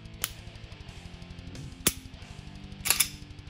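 Trigger reset clicks of a Shadow Systems DR920 pistol, three sharp, close clicks spaced about a second apart over a steady low mechanical hum.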